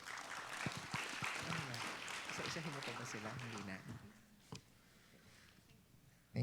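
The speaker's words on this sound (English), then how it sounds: "a round of applause to our first set of speakers" Applause from the audience for a first set of speakers at a Climate Vulnerable Forum senior officials meeting, steady and fairly close for about four seconds, mixed with a speaking voice, then fading to quiet room tone.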